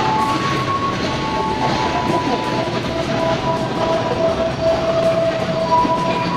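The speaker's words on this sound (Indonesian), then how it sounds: "Ini keretanya udah datang" A train rolls into a station with a loud, steady rumble and rattling wheels. Faint brake squeals rise and fall, and a little talk can be heard in the background.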